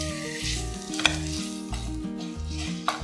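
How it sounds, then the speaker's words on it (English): Eggs scramble in a pan for egg chicken fried rice, a steady sizzle with soft stirring scrapes and a couple of sharp clinks, set against continuous background music. "So now we'll scramble the egg"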